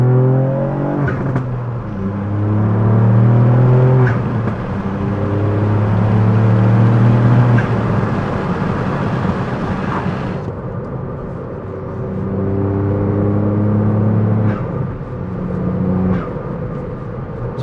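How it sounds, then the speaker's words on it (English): A tuned Ford Fiesta ST MK8.5 with over 250 bhp, in sport mode, drones and revs steadily with a few sharp exhaust pops and bangs cracking out on overrun. "So you heard probably a few pops and bangs then."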